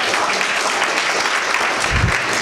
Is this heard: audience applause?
yes